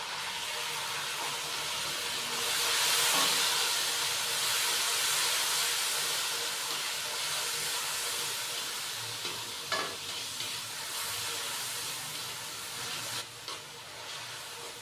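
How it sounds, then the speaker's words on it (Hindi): Whole cumin seeds sizzle steadily in hot oil for a tadka while cooking chicken pulao, a continuous close frying hiss with occasional pops and stirring clicks, no voices. "बड़ा ही मज़ेदार सा हमने ज़ीरे का तड़का लगा लिया है"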